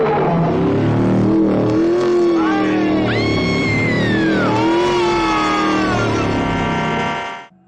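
Engine of the possessed car in the 1977 desert-town horror film The Car, revving loudly with whining pitch that climbs and sweeps up and down, then cuts off abruptly at the end.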